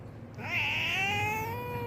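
A pet cat meows and cries indoors, a single drawn-out, wavering plaintive call close to the microphone, fairly quiet with no talking over it.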